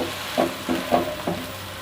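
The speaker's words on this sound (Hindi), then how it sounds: "हम इसको तकरीबन 7 मिनट तक फ्राई करेंगे।" Chicken sizzles in a pan for Sindhi biryani, with several quick stirring scrapes breaking through a steady close frying hiss.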